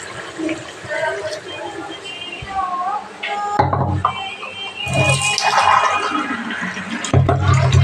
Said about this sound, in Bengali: দিয়ে পরিমাণ মতো ঝোল দিয়ে দিব